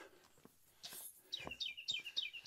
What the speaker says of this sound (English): Oh, some bird.